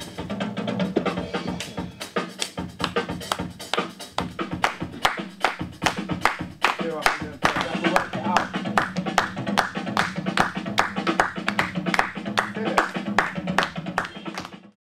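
A group claps in unison along to a steady beat during a music session, the sharp even claps repeating throughout over background music, with sporadic talk.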